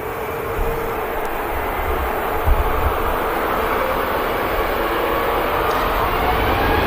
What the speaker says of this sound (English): Beautiful 350 on the taxi out heading to Vegas.